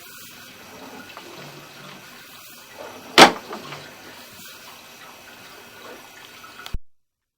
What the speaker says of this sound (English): here you can see we have the water flow